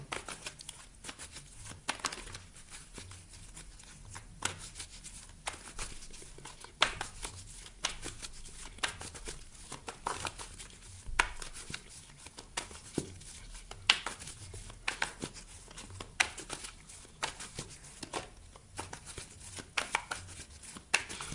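Tarot cards shuffled by hand over a long stretch, giving continuous soft riffling and patting with frequent sharper slaps, close and fairly quiet with no talking.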